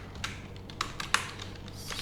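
Typing CSS code on a computer keyboard, a handful of light irregular keystrokes clicking close by over a quiet background hum.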